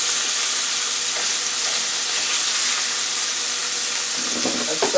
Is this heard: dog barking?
no